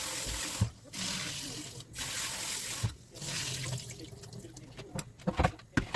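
Water is poured off soaked, washed rice into a sink. Running and draining water rushes in bursts with short pauses, then gives way to drips and small clinks.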